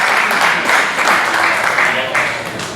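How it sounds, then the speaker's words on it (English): An audience at a celebration of life applauds loudly and continuously, with voices talking over the clapping. "How about putting a round of applause out there for Eddie and Bob?"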